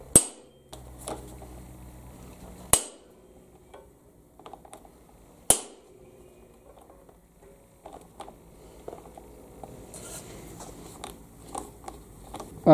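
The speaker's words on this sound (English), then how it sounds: "I will try this hammer screwdriver thing right away." A hammer strikes an impact screwdriver on a Honda CB motorbike brake part, giving two sharp metallic blows a few seconds apart, followed by softer clicks and tool handling close by.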